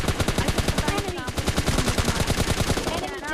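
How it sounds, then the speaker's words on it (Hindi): Gunfire in the battle royale game PUBG Lite rattles as a rapid, steady automatic burst of loud, close shots lasting the whole stretch, with a voice speaking faintly beneath. "यहाँ पर ये बंदा मुझे पीछे से फायर देता है"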